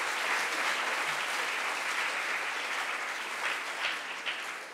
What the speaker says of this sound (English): A big round of applause for the participants.